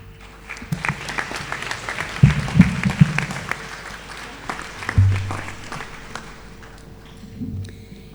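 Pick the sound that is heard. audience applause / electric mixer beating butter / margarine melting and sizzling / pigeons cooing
audience applause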